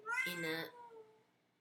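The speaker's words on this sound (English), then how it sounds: "my cat is basically still trying to get the water" A house cat gives one close, clear meow that rises and then trails off into a softer tail, alone against a quiet room.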